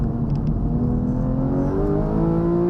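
Porsche 911 GT3 on a race track, its engine note rising steadily as it accelerates hard, a loud continuous close roar with climbing harmonics and no talk.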